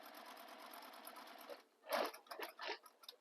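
Sewing machine stitching a bag, a steady buzzing run that stops briefly, then a few shorter bursts of stitching, close and fairly quiet with no talking.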